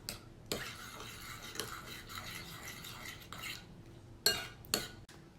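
Chicken wings are tossed and stirred with buffalo sauce, a utensil scraping and clinking against the bowl in uneven, fairly quiet bursts with a few sharper knocks near the end.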